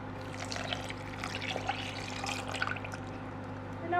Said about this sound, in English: we need to add milk, warm milk, not that warm, lukewarm